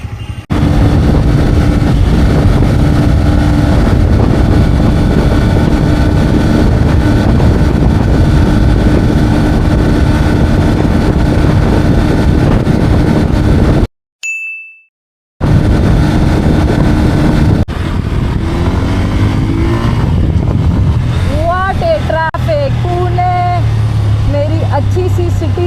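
A Bajaj Pulsar N125 motorcycle is ridden at speed, its engine drone buried under loud, steady wind rush that cuts out briefly partway through before returning.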